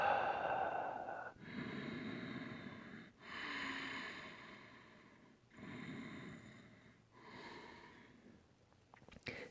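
Slow, audible breaths flow in and out through the nose during a yoga forward fold, each long inhale and exhale separated by short pauses, close and soft with no talking over them.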